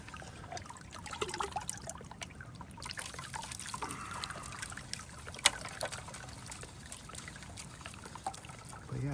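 Water trickles and burbles steadily through a large gold prospecting sluice set in a stream, a soft continuous flow heard close with light splashes and a faint sharp knock partway through.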